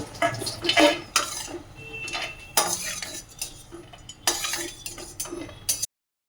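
A spatula repeatedly scrapes and clinks against a pan as fried flattened rice (poha) with raisins in ghee is stirred and lifted, with a soft sizzle under irregular metallic knocks, up close and without speech.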